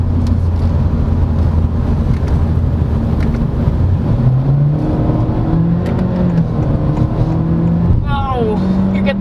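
A 2022 Honda Civic RS with a turbo engine and CVT accelerates hard, its engine drone rising steadily in pitch under loud road and wind noise, with a voice speaking inside the cabin.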